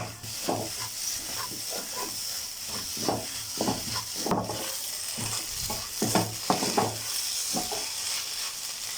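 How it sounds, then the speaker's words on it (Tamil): Kothu parotta being stirred and tossed in an iron pan over high flame, repeated close metallic scraping strokes over a continuous sizzle and hiss, steady and fairly loud with no talk. "இப்போ ஹை ஃப்ளேமில் வச்சு இதை ஒரு 2 நிமிஷம் நல்லா மிக்ஸ் பண்ணி விட்டுக்கலாம்"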